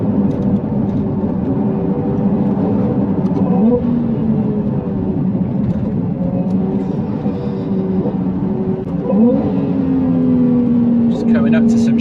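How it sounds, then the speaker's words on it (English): Ferrari 296 exhaust note piped into the cabin through a sound box, a steady engine drone with shifting pitch while driving on Black Mountain Pass, rising near the end. "it is the proper exhaust, but it's like an exhaust sound box that they use to pipe the sound into the cabin of the car"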